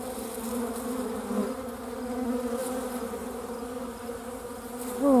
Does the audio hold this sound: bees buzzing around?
yes